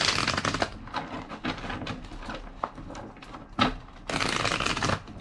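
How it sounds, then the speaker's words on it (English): A deck of tarot cards being shuffled by hand, with crisp riffling bursts and softer card slides repeating close to the microphone, strongest near the start and end, with no talking. "Two more shuffles."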